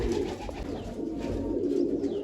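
Pigeons coo softly and continuously in a loft, low throaty murmurs overlapping at close range with faint rustling and no talk.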